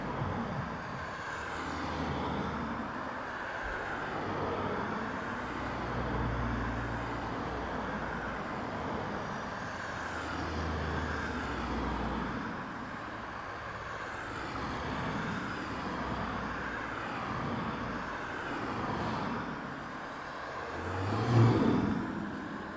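A jet departs East Midlands Airport, heard as a distant, broad roar that swells and fades over about twenty seconds, with a faint rumble underneath.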